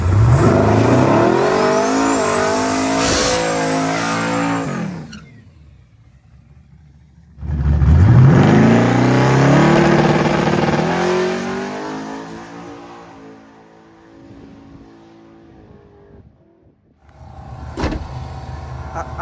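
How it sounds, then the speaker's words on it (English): A twin-turbo Hemi drag car's engine roars and revs hard through rising gears, cuts out briefly, then launches again with a strong accelerating howl before fading away. "here we go with Mark's car again"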